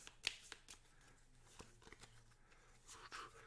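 Cards being shuffled into the event deck of the Robinson Crusoe board game, a few soft riffling bursts and taps at close range with no talking.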